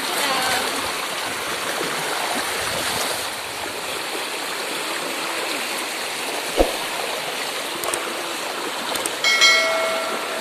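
A stream runs full after rain, a steady, broad rush of flowing water close by, with a faint thud and a brief clatter near the end.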